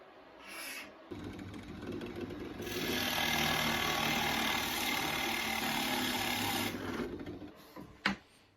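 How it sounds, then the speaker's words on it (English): A Forstner bit held steady by a simple jig bores a hole for a router plate in a router table cabinet, a steady motor whir that swells louder through the middle, cuts off, then ends with a sharp knock. "made a very simple jig just to keep the forstner bit that I'm using from slipping and skidding over the surface"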